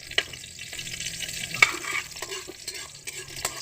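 Sardines sautéing in a pan, a steady soft sizzle of frying with occasional scrapes and taps of a utensil stirring, close up and without talk.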